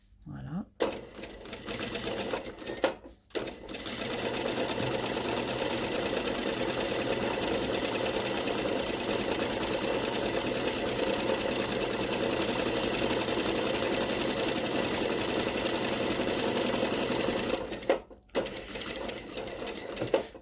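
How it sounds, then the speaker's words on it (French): A sewing machine sews a straight seam 5 mm from the fabric edge, whirring at a fast, even pace for about fifteen seconds after a few short starts, then stopping briefly before running again. "Je viens piquer ma première à 5 mm du bord."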